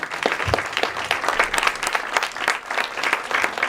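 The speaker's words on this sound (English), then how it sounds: "Can we give them a round of applause again?" Parents at a school district information meeting give a round of applause, a loud, close burst of many hands clapping unevenly and continuously, with individual claps popping out of the crowd.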